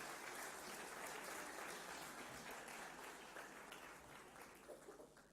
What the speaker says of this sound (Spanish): Un aplauso para ellos, por favor.